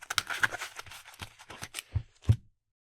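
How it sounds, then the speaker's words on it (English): A Magic the Gathering card deck being picked up and given a brief shuffle, a quick run of soft riffling card clicks and slaps close up, ending in a couple of firmer taps before silence. "Or they might pick it up and give it a little shuffle."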